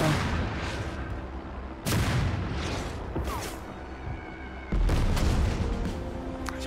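Sustained gunfire and artillery from the tank strategy video game Total Tank Generals, with a steady battle rumble broken by two loud blasts, one near two seconds and one near five seconds, and scattered cracks and pops throughout.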